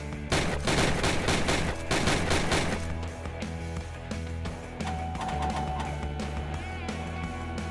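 Rapid rifle shots fired on a virtual shooting range in Gun Club VR, a dense burst of sharp reports for a few seconds, then quieter scattered shots over a steady music bed.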